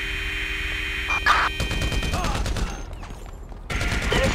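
Bursts of gunfire in a Grand Theft Auto 5 city police chase, loud automatic fire layered over a steady game drone and mixed with chaotic action noise.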